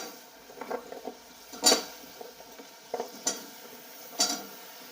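Drumstick pods stirred through spice masala in a pan, a soft low sizzle under irregular scraping and clinking of a spoon against metal, close and unhurried.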